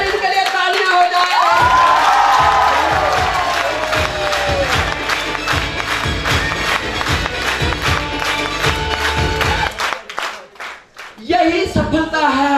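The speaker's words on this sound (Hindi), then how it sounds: "एक बार इनके लिए तालियां हो जाए।" An audience at a motivational talk breaks into loud applause and cheering, dense clapping with shouts and whistles that fades toward the end.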